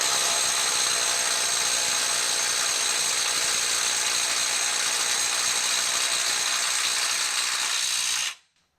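A Milwaukee M12 FUEL subcompact 3/8-inch drive impact wrench on a 5.0 battery pack hammers continuously at a 250 foot-pound test, a loud, steady, high rattling whine held for about eight seconds before cutting off abruptly.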